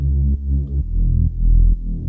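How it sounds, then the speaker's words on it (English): A thick, buzzy, wide unison saw wave synth bass holds low sustained notes, changing pitch every half second or so, steady and loud with no voices. "which is a high unison saw wave bass sound"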